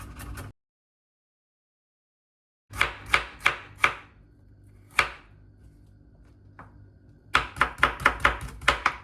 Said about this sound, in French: Pour l'ail, je le casse d'abord et je le coupe ensuite.